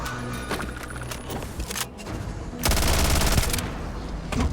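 Rifle fire in the Starfield video game, with scattered shots early on and then a loud, sustained rapid burst through the middle of the clip.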